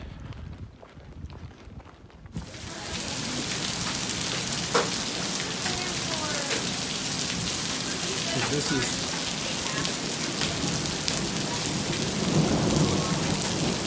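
Heavy rain pours steadily over the Appalachian Trail during a thunderstorm, a broad wash of rainfall that starts abruptly after a quieter opening, with a low rumble of thunder near the end and a voice speaking briefly at the start.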